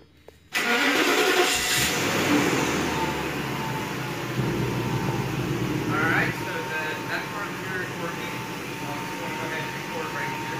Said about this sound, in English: I'm going to turn the car on just because we had issues with the fuse blowing for the AC